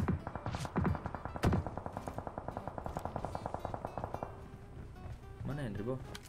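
Rapid bursts of automatic gunfire from below in PUBG, a fast regular stream of shots with a few heavier single cracks, mid-distance, under a voice talking.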